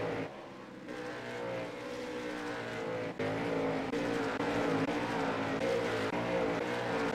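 Late model race car engines roaring steadily at New Smyrna in the iRacing game, a sustained close drone of several cars with a brief dip midway and faint tire squeal.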